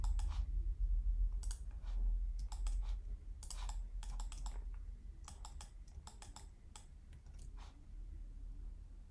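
A computer mouse clicks repeatedly in irregular clusters at a desk during 3D rendering work, with sharp, light taps spaced by short pauses over a low background hum.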